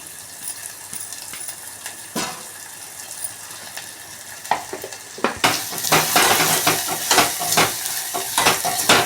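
Ginger fries in oil for dal charu, a steady soft sizzle broken by metal utensil clinks and scrapes that grow louder and busier partway through, close and without talking.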